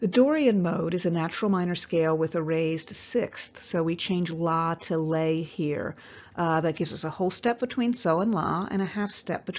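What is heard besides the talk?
No everyday noise stands out behind the speech.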